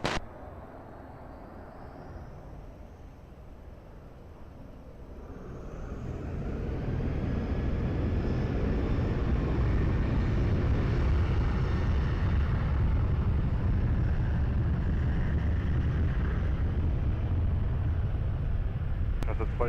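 An Air Transat airliner takes off at Lisbon Airport. A quiet, distant whine swells after a few seconds into a broad, sustained jet roar that stays loud and steady to the end.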